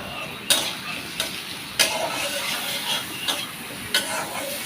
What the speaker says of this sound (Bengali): এরপর আবার নাড়াতে থাকলাম